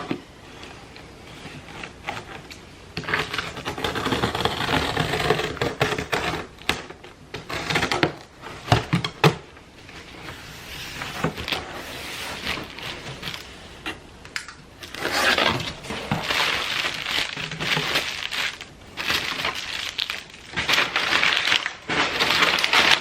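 A large Magnolia cardboard box being cut open and unboxed, with close, loud scraping, tearing and crinkling of cardboard and packing in irregular bursts, broken by short pauses and handling knocks.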